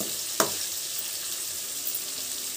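Raw banana pieces frying in plenty of oil for Andhra-style aratikaya vepudu, a steady hissing sizzle close by, with one sharp clack near the start and a faint tap later.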